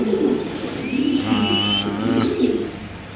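Dragon pigeons coo in a low, repeated rumbling pattern close by, with softer bird chirps scattered over the top. Nobody speaks.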